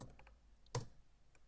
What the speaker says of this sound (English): I'm typing whatever in and checking what I've typed in.